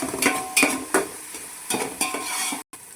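Finely chopped onion frying in a pan as the base for a Mangalorean tuna curry, a close sizzle broken by several sharp stirring scrapes and clinks of a utensil.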